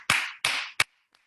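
Three sharp claps with short decays, the last one tighter, then a faint tap. They come as a sparse, close burst at a training event in honour of a leader.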